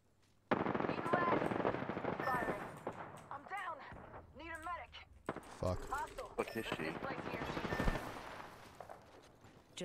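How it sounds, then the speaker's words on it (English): Gunfire in the video game The Stanley Parable comes as quick bursts of shots and mechanical clatter, mixed with voices speaking over the game audio. "Where are those shots from?"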